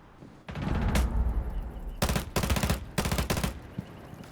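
Rapid bursts of automatic gunfire in a shooter video game, several close, loud volleys separated by short gaps, including the shot that lands a headshot.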